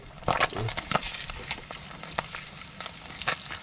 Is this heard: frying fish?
yes